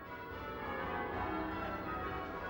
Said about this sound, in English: Church bell ringing is a quintessentially English pastime with a very distinctive sound.